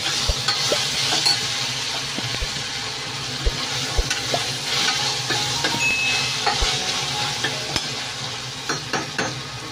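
Ginger garlic paste frying and being stirred in a pan for masala egg curry, a steady sizzle with frequent spoon clicks and scrapes against the pan, close and alone.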